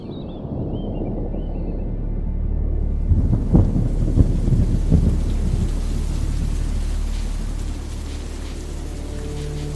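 Rain and thunder: steady rainfall hisses throughout while deep rolling thunder swells and rumbles in the middle, loud and close, with no voices.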